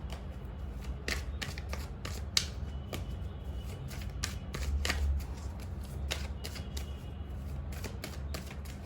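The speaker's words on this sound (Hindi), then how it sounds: "मैं टैरो से कुछ कार्ड्स निकालूंगी" Tarot cards being shuffled and drawn at a pick-a-card reading, a steady run of crisp, close papery flicks and slaps, with no speech.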